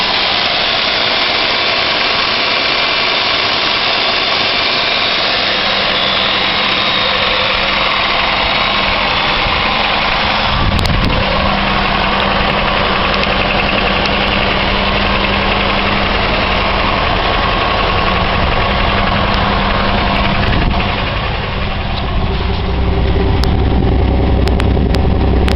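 A 2001 Chevrolet Malibu with a stock exhaust idles steadily after a cold start in winter, a loud, constant engine drone with a faint ticking and occasional small bumps throughout.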